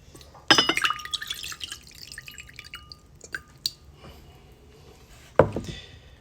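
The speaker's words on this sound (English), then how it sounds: "we got to drain the water." Water drains and drips from a Chia Pet container shaped like Homer, with sharp glassy splashes at the start and again near the end, and soft trickling between.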